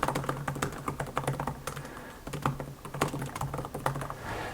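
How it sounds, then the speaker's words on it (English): Quick, steady typing on a Lenovo IdeaPad 9i ultrabook laptop keyboard, a close, continuous run of crisp light key clicks with short pauses, no voices. "Quick typing test on it."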